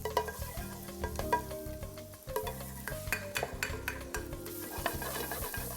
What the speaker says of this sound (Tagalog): Lagyan natin ang olive oil. Okay, unahin natin ang garlic. Minced garlic.